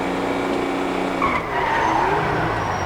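Tires skid and squeal under braking from an old Toyota car in GTA 5, a steady loud engine and road roar throughout with a brief higher screech in the middle.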